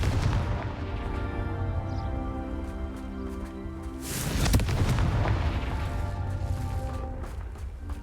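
A Confringo blasting spell in the game Hogwarts Legacy goes off as a single booming burst midway, rising out of a steady rumbling, hissing backdrop and then fading.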